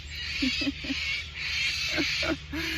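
Cockatoos give several short harsh calls, some in quick groups and some spread apart. They sound fairly distant and ring out over a steady outdoor hiss of wind or surf.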